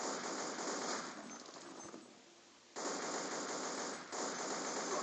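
Loud automatic gunfire from a video game gun rattles in continuous bursts, drops away briefly, then starts again just as hard and keeps going.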